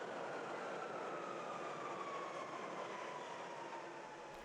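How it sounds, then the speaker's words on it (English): A London Underground train rolls along, its wheels grinding on the rails in a continuous loud roar with a high metallic squeal that slowly falls in pitch. "When the rails and the wheels are grinding on each other"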